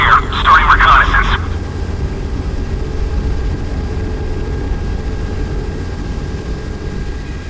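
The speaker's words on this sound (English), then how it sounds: "Helicopter in the air, starting reconnaissance." A helicopter flies in the naval video game Modern Warships, launched from an SPS F-110 frigate. A steady low engine and rotor drone runs throughout, with a short voice-like burst at the start.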